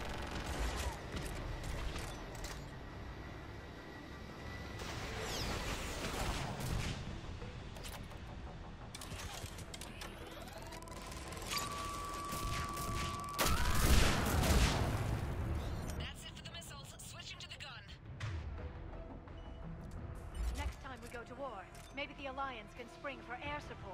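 Weapons firing in the Mass Effect 3 video game, with bursts of gunfire and heavy blasts among whirring mechanical effects, louder mid-clip and mixed with talk.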